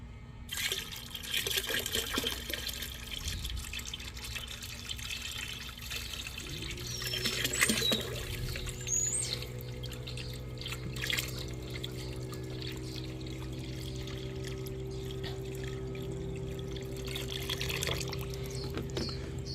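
Water pouring steadily into an ELIL electric camp shower tank while it is topped up with another gallon, a continuous close filling rush that deepens in tone partway through, with no talking.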